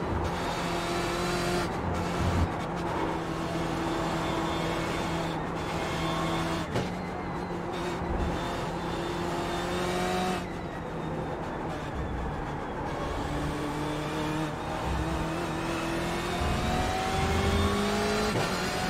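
A BMW M8 GTE race car in iRacing at COTA roars loudly and continuously, its engine note climbing and dropping through gear changes with brief lifts and faint tire noise, and no voices.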